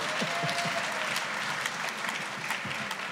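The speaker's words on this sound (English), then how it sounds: "give them a clap." Congregation applauding in a church service after children are praised, steady dense clapping throughout, fairly close and full, with no voice over it.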